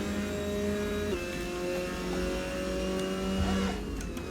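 A race car engine in Assetto Corsa screams through gear changes around the final corner of a lap, with high rising and falling pitch, close and continuous, and no speech.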